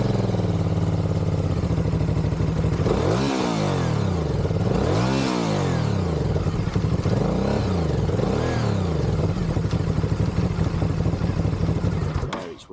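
An Aprilia Shiver SL750 motorcycle engine runs steadily close by, with four distinct rising-and-falling throttle revs spaced a couple of seconds apart over a continuous idle, no talking.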